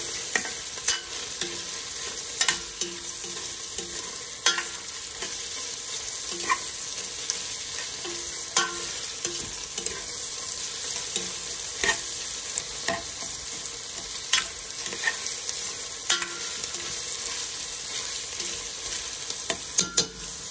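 Ginger sautés in a hot pan for beef pares, making a continuous frying hiss broken by regular scraping knocks as a utensil stirs it, close and with no talking.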